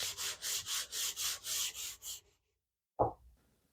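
Wood for a coffee table is sanded by hand in quick, even back-and-forth rubbing strokes, about a dozen close scrapes, then a pause and a single soft knock.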